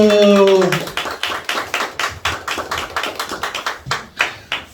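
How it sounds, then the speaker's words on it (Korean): Audience at a church youth-group Sunday service claps for an award recipient, beginning after a brief spoken voice, the claps arriving as clear individual hand strikes, scattered but steady, fairly close and moderately loud. "한 해 동안 수고해 주셔서 감사합니다. 박수."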